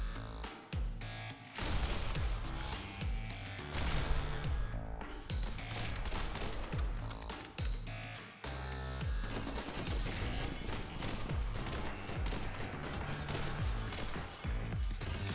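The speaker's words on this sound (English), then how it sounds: "got 4 bullets in this motherfucker." Dense, loud gunfire from dual-wielded pistols in The Hong Kong Massacre, a John Woo-style bullet-time shooter game, with rapid overlapping shots and crashes running almost continuously, with only a brief lull.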